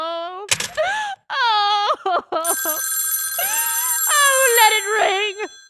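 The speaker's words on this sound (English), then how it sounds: "Oh, let it ring. Let it go on ringing." A telephone rings in a radio drama, repeated ringing in bursts alongside a woman's distressed, moaning voice, loud and close.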